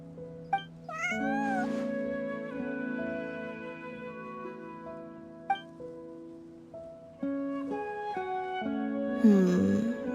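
A cat in a video game meows several times, with rising and falling calls near the start and end over soft, sustained background music.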